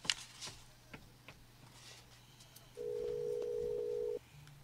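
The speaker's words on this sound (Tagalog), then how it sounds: "Akong tawagan si Mirasol" A telephone being dialed for a call, with faint clicks and ticks followed by a steady electronic tone held for about a second and a half, quiet and close, with no talking.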